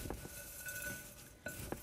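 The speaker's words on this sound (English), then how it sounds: "Our next step is to mix it or stir it. That's where I use that wooden spoon." A wooden spoon stirs a bowl of trail mix with chocolate chips, giving scattered dry clinks and rattles of pieces knocking together in short bursts, close by and moderately loud, with no talking.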